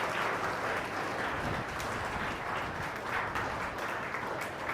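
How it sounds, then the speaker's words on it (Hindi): Audience applause at a school program, parents and guests clapping together in a steady, dense wash of hand claps that continues at an even level for the whole stretch, with no speech over it. "तालियां आप सबके लिए हैं."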